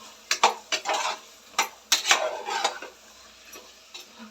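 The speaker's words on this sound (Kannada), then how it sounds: "ಚೆನ್ನಾಗಿ ಈ ಥರ ಮಿಕ್ಸ್ ಮಾಡಿ" A spoon stirs carrot, beans and potato in a pot for veg pulao, making a series of close metallic scrapes and clinks against the pot with soft shuffling of the vegetables, irregular and moderately loud.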